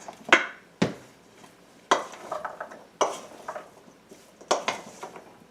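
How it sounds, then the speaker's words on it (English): A spoon stirs chicken salad in a bowl, making a handful of distinct clinks and scrapes against the bowl in an uneven rhythm, close by with quiet gaps between. "Just give that a stir."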